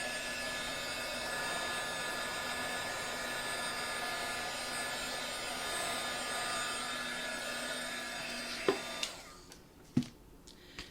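A heat gun drying chalk paint blows with a steady, loud whooshing hum for about nine seconds, then cuts off, leaving a few faint clicks and knocks.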